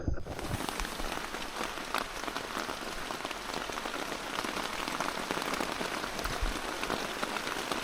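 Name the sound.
heavy rain falling on a tent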